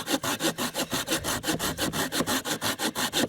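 A Bahco Laplander or Silky Gomboy folding hand saw cuts through very hard wood in quick, even back-and-forth strokes, a rasping rhythm of about five strokes a second, close and loud, with no talk.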